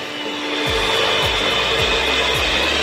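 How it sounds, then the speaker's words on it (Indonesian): Electric mixer beating egg dough at high speed for crunchy cheese sago cookies, a steady loud whirring hum with a faint repeating rhythmic thump from the beaters, no talking. "kita mau ngocok adonannya dengan speed besar ya"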